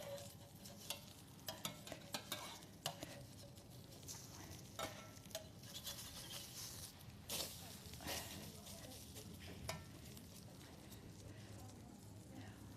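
Lentil wraps fry in an overly hot frying pan, giving a steady low sizzle with scattered clicks and scraping, while a person talks nearby.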